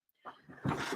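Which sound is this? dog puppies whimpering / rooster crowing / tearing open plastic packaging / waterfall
dog puppies whimpering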